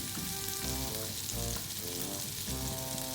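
Chopped garlic sautéing in butter in a pan, a steady close sizzle with intermittent stirring pulses throughout.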